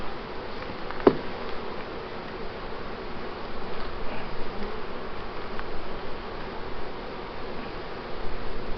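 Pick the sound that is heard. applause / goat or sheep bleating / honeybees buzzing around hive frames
honeybees buzzing around hive frames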